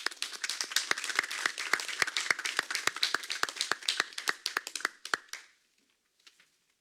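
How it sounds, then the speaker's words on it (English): Hand clapping from a city council meeting audience, honoring a new Lions Club district governor. Sharp, fairly regular claps at moderate loudness sound for about five seconds, then thin out and stop, leaving a few faint taps. "Can I have a round of applause for Marco?"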